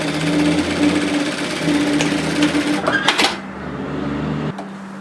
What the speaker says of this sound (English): I'm going to sew an edge stitch to close that gap